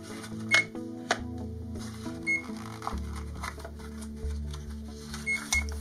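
An IRG-01A gamma radiation indicator held near a watch with radium paint gives sparse, irregular sharp clicks. Steady electronic humming and tones sit underneath, and no one speaks.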